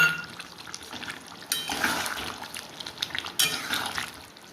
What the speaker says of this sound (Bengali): এটা দিয়ে মিশিয়ে দিলাম, দিয়ে এটা ঢাকা দিয়ে আরও 2 মিনিট ফুটিয়ে নেবো